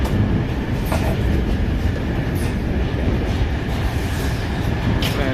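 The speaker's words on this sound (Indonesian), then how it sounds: "ini perjalanan keretanya sangat ngebut sekali ini" Interior rumble of a fast passenger train running through wintry Slovakia, a loud, continuous roar of wheels on rails with faint rhythmic clicks and occasional brief squeals, no voices.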